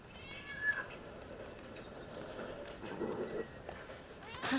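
Cat meowing in the video game Rise of the Ronin, a short faint meow early on amid low game ambience, with quiet speech in the background.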